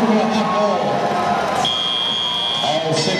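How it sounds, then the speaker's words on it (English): Buzzer sounding at a 2014 FIRST robotics championship qualification match: a steady electronic tone holds for about two seconds over a noisy arena crowd and commentator talk. "Sound of the buzzer"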